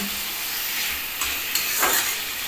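Sliced onions frying in a pan while being stirred, a steady close sizzle with scraping stirring strokes breaking through, no voices.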